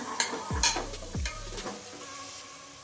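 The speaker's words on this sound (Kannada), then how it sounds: "ಇವಾಗ ಟೊಮೊಟೊ ಕಟ್ ಮಾಡಿ ಇಟ್ಕೊಂಡಿದ್ವಲ್ಲ ಅದನ್ನ ಹಾಕ್ತಾ ಇದ್ದೀನಿ." Chopped tomato and green chili dropped into a pan of fried onions for paneer biryani, with sharp clatters and stirring scrapes over a steady frying sizzle, no talking.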